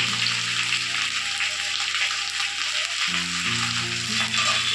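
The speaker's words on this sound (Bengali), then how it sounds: "এবার পটলের খোসাগুলোকে ভেজে নেব।" Pointed gourd peels and a few chillies fry in hot oil in a pan, giving a steady, close, crackling sizzle throughout, with a low hum underneath.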